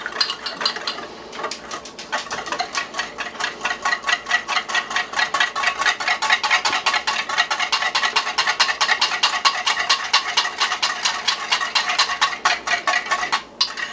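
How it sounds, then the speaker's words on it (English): Bourbon-spiked barbecue sauce made with Jim Beam Devil's Cut, mixed with a spoon in a bowl: a rapid, steady run of close, bright scraping clinks that keeps up without a pause for most of its length, with no one talking. "Give it a mix."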